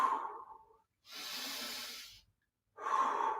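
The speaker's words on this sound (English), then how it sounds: "Take some nice deep breaths." Deep breathing after exercise comes from one person at close range, with a long audible exhale, a pause, a long, hissing inhale, another pause, then a further breath out, all without speech.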